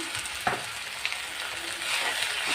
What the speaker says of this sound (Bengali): এখন এটাকে আমি নেড়ে চেড়ে ভেজে রান্না করে নিব, ভাজি করে নিব।